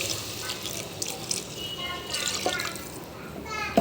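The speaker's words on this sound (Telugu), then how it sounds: "తగినన్ని వాటర్ పోద్దాం ఇప్పుడు" Water splashes and trickles steadily into a cooking pot of drumsticks and tomato for rasam, a soft continuous pouring with faint background noise.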